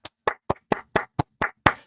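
A Gemmy Cha-Cha monster toy claps its hands eight times in quick, even succession, sharp close mechanical claps with brief silences between.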